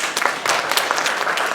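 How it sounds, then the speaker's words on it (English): An audience at a retirement planning and financial literacy talk breaks into brief applause for the women present, a close, steady patter of many hands clapping. "Let's clap for ladies who are here."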